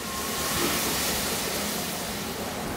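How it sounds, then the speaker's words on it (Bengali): Spice masala frying in oil in a pan, a steady broadband sizzle that holds at an even level throughout with no talking. "এখন এটাকে আমি একটু ভুনে নেব।"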